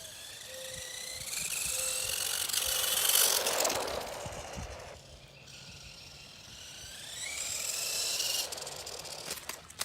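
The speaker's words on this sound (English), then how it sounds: "if there's too much torque, it'll make that grinding sound" 3D printed RC car running on a road, its motor and gears whining and grinding under heavy torque in rising and falling pitch sweeps, fairly close, with a brief lull midway before the strained whine returns.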